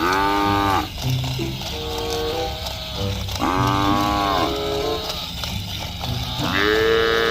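Colorful toy buffalo sounding repeated electronic moos, four long bellowing calls in a row with whirring mechanical clicks between them, loud and close with no talk.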